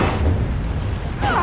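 A dense, rumbling explosion roar from a film fills the clip with sustained low boom and crackling debris, loud and continuous.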